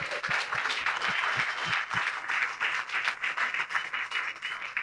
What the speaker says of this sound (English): So can we get a quick round of applause for those volunteers?